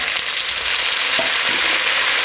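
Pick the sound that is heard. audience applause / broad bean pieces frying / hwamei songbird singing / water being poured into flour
broad bean pieces frying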